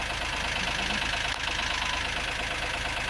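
A tractor engine runs steadily and close by on a muddy farm in winter, a constant broadband drone with no breaks and no voices.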